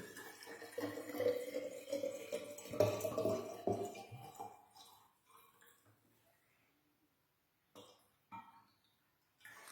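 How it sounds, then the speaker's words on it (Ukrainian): Water is poured into a hydrogen water generator thermos, a gurgling, sloshing stream that runs for a few seconds, then fades to near silence with a few faint late splashes and drips. "Іншу частину води ми заливаємо у термосіонізатор генератор лівінг-води"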